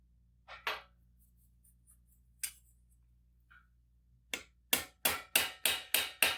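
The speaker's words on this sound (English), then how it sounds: "hammer on just the outside edge to push the metal back in towards the center" Sharp metallic hammer blows ring out on the edge of steel armour plate, a few scattered strikes followed by a quick, regular series of six or seven loud hits close by.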